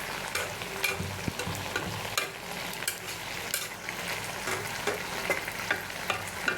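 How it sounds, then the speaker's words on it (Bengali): Vegetables frying in a pot on a home stove, stirred after the lid comes off: steady close sizzle under repeated scraping and clinking strokes of a utensil, with no talking. "ঢাকা উঠে একটু নেড়ে চেড়ে নিলাম।"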